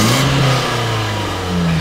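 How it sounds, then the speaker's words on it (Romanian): A BMW E36 car engine revs at close range, holding a loud, sustained mid-pitched drone that dips slightly in the middle and then swells again near the end, with no talking. "Ia două poliberi și dă-i niște ture așa în guriță"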